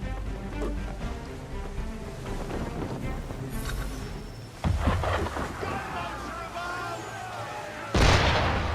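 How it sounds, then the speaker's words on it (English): Cannon fire from a ship in Assassin's Creed III: booming blasts arrive with sudden loud onsets around the middle and again near the end, over a continuous rumbling, crackling game background with splashing water and faint speech. "Why is he shooting at us?"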